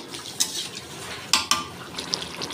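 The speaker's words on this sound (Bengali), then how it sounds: "আমি ঢাকা দিয়ে দিলাম" A metal lid clinks down onto a pot of Bengali fish curry cooking with Malabar spinach stalks. Three quick, light knocks stand over a soft, steady simmer.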